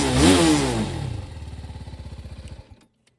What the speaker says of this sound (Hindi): बाइक का साउंड सुनाते हैं, वो भी ट्रैक मोड पे लगा के